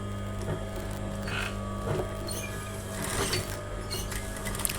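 Sewing machine stitching a blouse collar near the buckram lining, a steady mechanical whir with light rhythmic ticking running continuously for the whole stretch, fairly close and moderate in level, with no talk.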